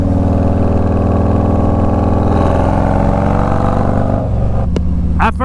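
A Harley-Davidson Street Glide Special FLHXS sends out a loud, close, throbbing V-twin rumble that holds steady, then swells and drops away near the end as the throttle changes.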